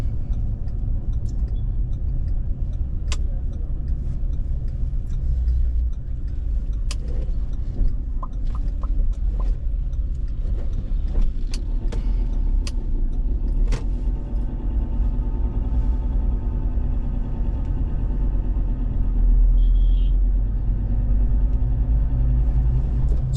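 A car drives along the E10 road in Eldoret, Kenya, with a steady low engine and road rumble throughout, plus occasional faint clicks and rattles inside the cabin.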